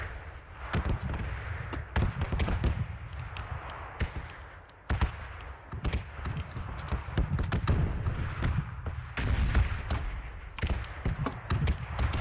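In a shooter video game, red zone bombardment sends a rapid series of booming explosions with sharp cracks. They land at irregular intervals, some loud and close and others fainter, with no speech.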